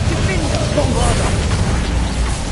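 A Bombarda blasting spell in Hogwarts Legacy goes off as a loud, rumbling explosion, deep and sustained with a low roar filling the short moment, near and forceful, while a voice sounds over it.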